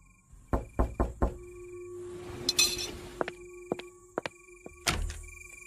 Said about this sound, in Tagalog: may malakas na katok ang narinig ko mula sa labas